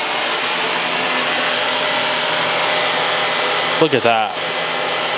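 A Shark Navigator Zero-M upright vacuum cleaner runs on carpet with a loud, steady motor roar throughout, briefly broken by a short voice near the end.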